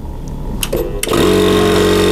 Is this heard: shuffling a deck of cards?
no